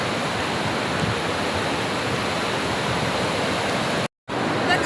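Sea water at Digha beach rushing in over bare feet and shins, a steady broadband wash of surf that fills the scene loudly and close, cut by a brief dropout near the end.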